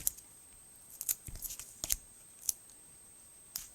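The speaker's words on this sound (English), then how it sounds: "So let me grab my scissors." Quiet, scattered snips of scissors cutting 1/8 foam, a handful of short crisp cuts with pauses between them.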